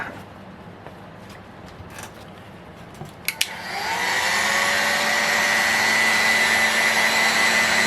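Heat gun blowing hot air onto a bearing housing to loosen an ASP 61 ring bearing: a few faint clicks, then a steady loud whooshing whine that switches on partway and holds, close by.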